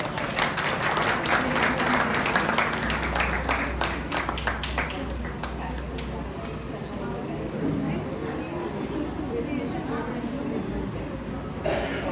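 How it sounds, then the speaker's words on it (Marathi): An audience at a Women's Day gathering claps, with dense applause early on that thins and fades, while voices murmur and talk over it. "टाळ्या टाळ्या टाळ्या"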